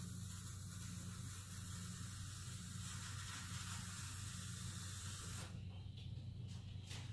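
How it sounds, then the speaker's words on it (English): A Montana spray paint can fitted with a fat cap blasts a steady, loud hiss of paint for about five seconds, then cuts off abruptly into quiet. "Alright, we spray those before we put the resin in them."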